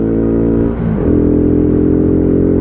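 A WK Maverick 125cc motorcycle engine revving hard, loud and close, with a rising whine that dips briefly as the throttle shifts and then holds a steady high-rev buzz.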